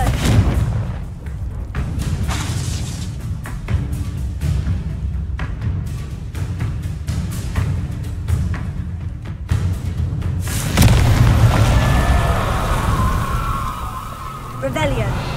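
A Confringo blasting spell going off, with deep booming blasts and rumbling bursts over a noisy background, rising to a louder explosion toward the end.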